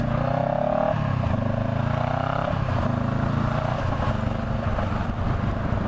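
A vehicle engine drones close and loud while the driver short shifts, its pitch climbing briefly then dropping at each early gear change, repeating several times over a steady rumble.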